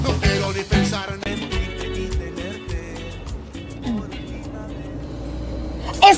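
A car drives along with a steady engine hum under a busy scene, with voices and other sounds layered over the motor throughout.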